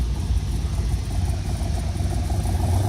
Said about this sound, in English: a big block Corvette idling towards us